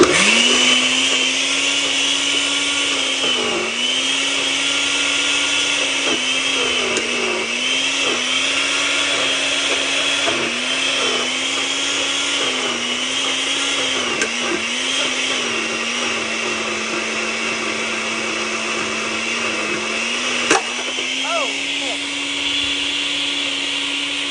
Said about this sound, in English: All right, so I'm just gonna put it back on blend.